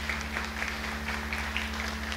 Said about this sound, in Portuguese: Pode aplaudir o irmão, cara.